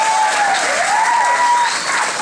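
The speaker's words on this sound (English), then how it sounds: "Please give yourselves a round of applause." Middle school students giving themselves a round of applause, a loud, continuous wash of clapping that holds steady throughout. A sliding whistle-like tone sounds faintly over it.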